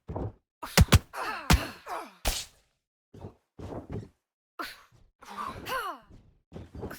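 Several sharp thumping punch impacts land in quick bursts in a boxing video game, each hit a short percussive thud separated by brief gaps, with whooshing swings and grunting effects between blows.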